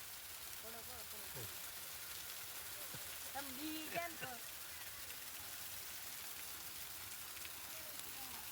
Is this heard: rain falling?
yes